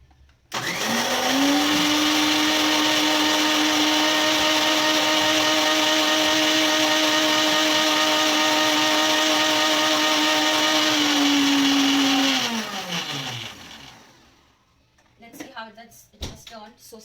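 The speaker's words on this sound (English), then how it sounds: "let's just blend this" A kitchen blender whirs loudly and steadily for about twelve seconds while making homemade keto mayonnaise sweetened with stevia, then winds down in pitch and stops, followed by a few clinks and handling sounds.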